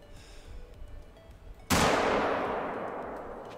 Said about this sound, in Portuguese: O tiro foi com a ponta macia.